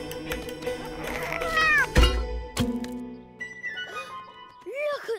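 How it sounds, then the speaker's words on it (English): A cartoon cat meows several times in rising and falling cries, mixed with other cartoon sound effects and a sharp thump, moderately loud in a busy animated scene. "Maybe not the cat, Peter."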